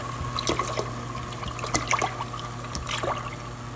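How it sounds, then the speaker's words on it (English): Milk is poured into vermicelli kheer cooking in a pot, a steady liquid trickle with small splashes and drips over a constant low hum, no voices. "I've just added 3/4 can milk"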